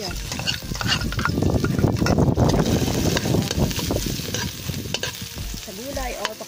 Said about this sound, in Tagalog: Magigisa ako ng bawang at